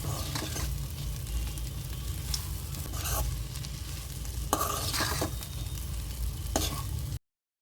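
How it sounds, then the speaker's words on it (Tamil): Chopped chapati for kothu parotta is mixed in a hot pan, with a constant sizzle under repeated scraping stir strokes, close up and without voices. "இப்போ லைட்டாக மிக்ஸ் பண்ணி விடுங்க."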